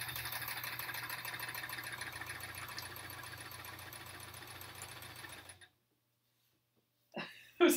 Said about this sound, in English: I'm going to put a little reverse stitch in here just to lock that stitch for now.